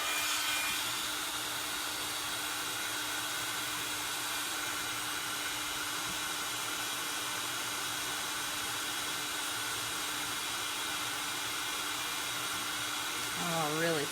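A heat embossing tool warms embossing powder on a stamped card, giving a loud, continuous blower-like whir with a steady hum that runs unbroken throughout, close and alone.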